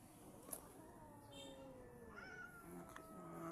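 Rescue cats fighting, close but quiet drawn-out yowling and caterwauling meows rising and falling over a faint background hum.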